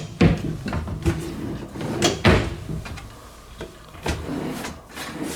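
A drawer in a hotel room slides open and shut, giving several distinct wooden knocks and sliding scrapes at irregular intervals, close by and with no talking over them.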